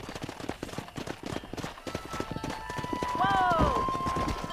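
Horse hooves clip-clop at a steady galloping rhythm in Red Dead Redemption while cattle-herding, close and loud throughout, with a horse whinny rising near the end and voices talking over the hoofbeats.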